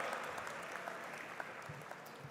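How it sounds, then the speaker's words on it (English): An audience at a student parliament event applauds steadily to welcome a speaker, a dense, even patter of many hands clapping at moderate volume throughout. "put your hands together and welcome with a round of applause"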